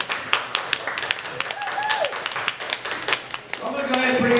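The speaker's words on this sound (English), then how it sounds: "Let's give them one more huge round of applause for coming out here tonight." An audience at a barrelhouse comedy night claps in scattered bursts, sharp hand taps rising into fuller applause toward the end, with a voice talking over it.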